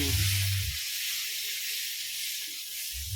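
Water spinach frying in a hot wok, a loud broad sizzling hiss that fills the whole stretch steadily, with a low rumble at the start and end.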